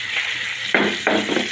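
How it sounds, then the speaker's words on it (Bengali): Pieces of rohu fish drop into hot oil in a pan and crackle sharply. Two loud bursts of sizzling rise over a steady background frying hiss, close to the listener. "মাছ ভাজার জন্য মাছ দিয়ে দিলাম।"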